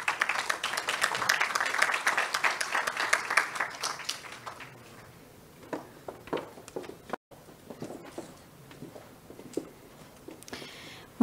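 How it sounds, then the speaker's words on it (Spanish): Audience applause at a mining forum, a burst of indoor clapping for about four seconds that thins into scattered claps and small shuffling noises in a hall. "Fuerte aplauso, por favor."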